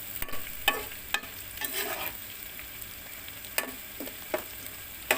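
Two large tomatoes, cut into big pieces, cook down in a pan for a spicy fish curry. A close, continuous sizzle plays under irregular scraping stir strokes, with no talk.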